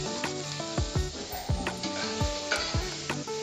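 Vegetables sizzle in a little oil in a pot while cooking a vegetable biryani: a constant frying hiss under repeated clinks and scraping knocks from stirring.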